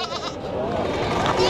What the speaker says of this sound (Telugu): ఇక్కడ చూడండి ఫ్రెండ్స్, మనకి 3 మేకలు ఉన్నాయి.